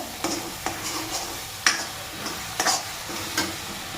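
Gojju sauce sizzling in oil in a pan while being stirred, with a steady frying hiss broken by several sharp scraping strokes of the spoon at irregular intervals, close and alone with no voices.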